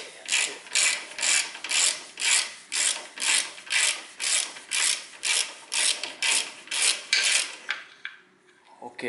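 A ratchet undoes a bolt during clutch work on a 2.4 VVT-i Toyota Camry, with about fifteen loud, rhythmic back-and-forth ratcheting strokes, close and regular, before it falls quiet at the end.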